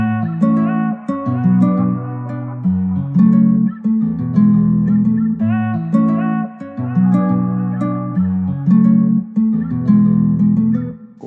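A plucked, realistic guitar melody built in FL Studio for a dancehall beat repeats in short looping phrases over sustained low chords, clean and upfront with no talking.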